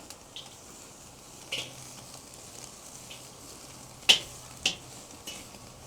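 Steak sizzles over a hot grill fire, giving a soft, steady crackle and hiss. A few sharp pops and clicks stand out above it.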